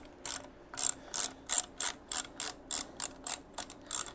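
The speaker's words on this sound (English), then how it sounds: "Get your ratchet to work properly. Break that bolt free. Then spin her all the way on out of there." A ratchet wrench clicks in about a dozen quick, evenly spaced bursts, close and alone, as a bolt is loosened while removing the shifter from a Harley-Davidson Sportster motorcycle.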